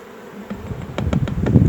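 Honey bees buzz around a sugar water feeder during a drought, a close steady hum that swells and grows busier, with brief pulses as individual bees pass near.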